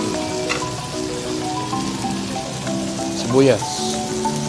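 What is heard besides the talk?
samgyeopsal pork belly sizzling while cooking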